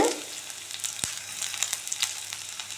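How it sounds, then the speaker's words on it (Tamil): Garlic frying in hot oil in a kadai, a steady close crackling sizzle with a sharp tap near the middle, heard alone. "இதில் நான் 1 கரண்டி ஆயில் விட்டுருக்கேன்"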